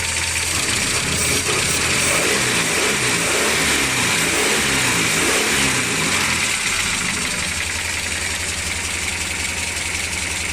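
A GAZ 2410 car engine running steadily and loudly up close, a continuous mechanical drone with a faint ticking of valves and whir of the drive belt, after a new water pump and alternator repair.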